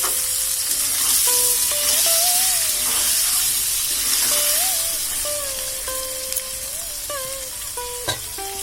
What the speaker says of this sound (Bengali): আলুটা ভাজা ভাজা করে তারপরে মশলাটা দেবো।